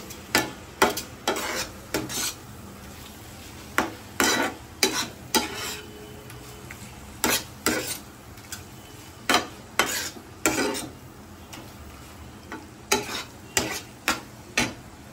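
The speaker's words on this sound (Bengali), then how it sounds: "এবার আমি এর মধ্যে আগে থেকে রেডি করা ডিমের ভুজিয়াটা দিয়ে দিচ্ছি। দিয়ে সমস্ত কিছু ভালোভাবে মিশিয়ে নিচ্ছি।" A spoon stirs egg bhujia with spices in a pan, repeated clinking scrapes against the metal in irregular clusters over a faint sizzle, fairly close.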